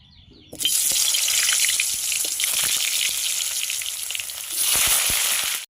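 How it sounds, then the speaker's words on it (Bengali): Potatoes dropped into hot oil in a wok burst into a loud, close, hissing sizzle that holds steady, then swells again near the end. No voices are heard. "তেলটা গরম হয়ে গেছে এবার আলুটা ছেড়ে নেব"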